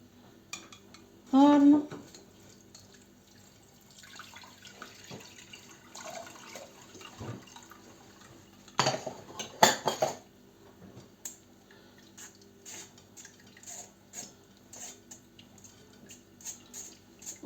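Rice being rinsed, water splashing and rattling against a metal sieve in a sink, with clinks of dishes; intermittent bursts, fairly quiet, no talking.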